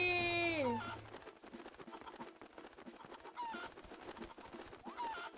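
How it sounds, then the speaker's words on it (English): Chickens in the video game Phantom Hourglass cluck and squawk in quick bursts, a rising crow-like call opening the sequence followed by busy, repeated clucks with game effects. "Chickens!"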